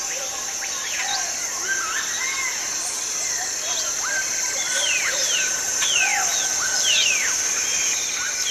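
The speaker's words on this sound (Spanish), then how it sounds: "Estas aves dependen de las hormigas guerreras para su alimentación" Jungle birds that follow army ants call from the forest floor with scattered whistles and chirps, some near and some farther off, over a constant high insect drone.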